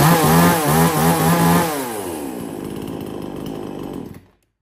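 A chainsaw engine roars loudly at close range, revving high then settling into a rough, lower idle before cutting off abruptly.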